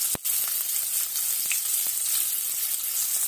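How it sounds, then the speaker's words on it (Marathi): Onion frying in hot oil for a potato and fenugreek curry gives a steady, loud sizzle with a few soft stirring clicks, with no voice over it. "आता तेल आपलं गरम झालं आहे, त्यात आता मी हे भाजून घेते व्यवस्थित।"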